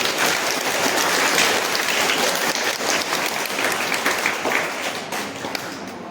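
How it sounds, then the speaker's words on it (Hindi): A crowd applauds a teacher at an Independence Day school event, dense steady clapping filling the whole stretch without a break before thinning slightly toward the end. "इसीलिए मैं आप सब लोगों से सर के लिए ताली बजवाऊंगा।"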